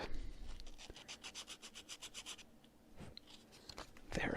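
Sandpaper rubbed by hand over an R2-D2 replica part, a faint close rhythm of quick scratchy back-and-forth strokes, roughly a dozen evenly spaced passes followed by a few slower scrapes.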